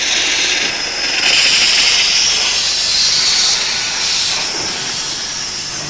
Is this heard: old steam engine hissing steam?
yes